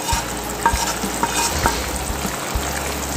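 Egg gravy with fried eggs is stirred in a hot pan, producing close, loud scraping stirs and knocks over a constant sizzle.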